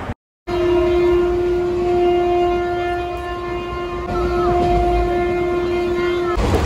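A train rumbles steadily along with a long, sustained horn-like tone over the running noise, close and loud after a brief silent start.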